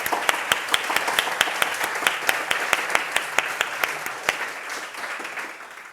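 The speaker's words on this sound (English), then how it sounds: "make big applause to the organizers and Vincent in there" Audience at a physics lecture applauding the organizers, starting with a few distinct, evenly spaced loud claps that thin out and fade toward the end.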